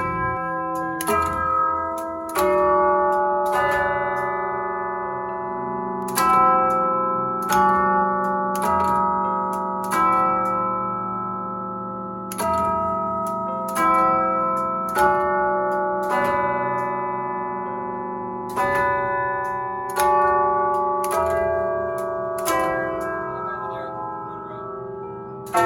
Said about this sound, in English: here's the head that flies out, strikes the note, and then retracts